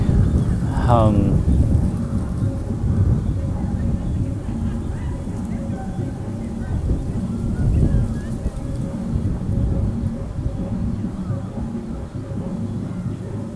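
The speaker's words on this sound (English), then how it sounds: "Oh, now you can see the wind. My camera is shaking." Wind buffets a shaking camera outdoors, producing a steady, loud, low rumble with gusty surges throughout and a faint voice underneath.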